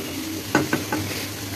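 Fiddlehead fern and egg fry in a pan with mustard oil, a steady close sizzle broken by three sharp stirring scrapes.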